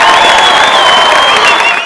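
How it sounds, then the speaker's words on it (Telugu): A studio audience of boys and girls claps and cheers for a students' performance on a TV game show, a steady, loud, close wash of applause throughout. "ఒకసారి గట్టిగా అందరూ క్లాప్స్ కొట్టాలి బాయ్స్ అండ్ గర్ల్స్"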